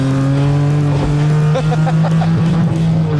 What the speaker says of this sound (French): Ah là, t'es dans une voiture de course.